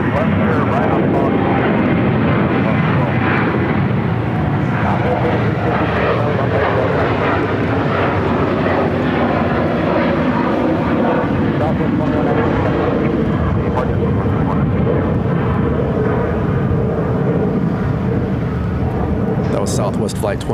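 Loud, continuous jet roar of a Southwest airliner on the runway at Phoenix Sky Harbor airport, a steady broadband rumble and whine lasting throughout, with a voice talking faintly beneath it.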